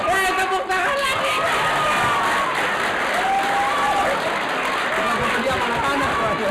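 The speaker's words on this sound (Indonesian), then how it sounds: "Tepuk tangan lagi." An audience claps during a comedy chat show, giving a dense, continuous ripple of applause with some crowd noise mixed in, lasting the whole stretch without a break.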